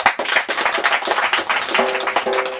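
Wedding guests applaud during a church marriage ceremony, a dense, steady clapping that fills the space at full loudness, with a brief sung or sustained tone emerging near the end.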